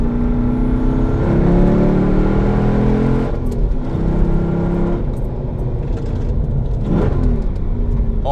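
A tuned Mercedes C55 AMG with a manual gearbox revs hard from the cabin, the engine rising and falling through several quick pulls with a loud, gritty drone and brief dips between gear changes.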